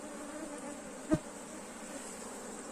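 Honey bees in an open hive being fed protein during a frame inspection keep up a steady, dense buzz, with one brief sharp knock partway through and no talking.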